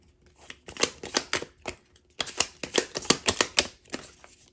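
Crisp riffling bursts as a deck of cards is shuffled several times, each flurry of snapping cards separated by short pauses, close and fairly loud.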